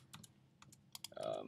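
Computer keyboard keys pressed while deleting objects in AutoCAD 2012, a few soft separate taps followed by a quick cluster of clicks, close and quiet.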